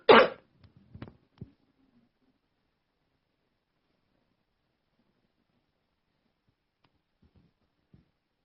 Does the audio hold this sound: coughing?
yes